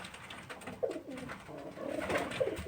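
Pigeons in a busy dovecote, squabbling over nests, giving overlapping low cooing calls close by, a continuous murmuring chorus with a few louder coos standing out.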